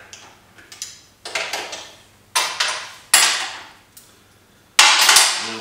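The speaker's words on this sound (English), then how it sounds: "Pull out this ratchet here." A ratchet wrench working on a BSA Rocket 3 motorcycle engine: five or six close, sharp bursts of rapid metallic clicking, each fading quickly, separated by short pauses, with no voices.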